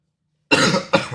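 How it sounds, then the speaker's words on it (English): Two harsh coughs close to the mic after a moment of silence, the second slightly shorter. "apologies, guys, for my cough"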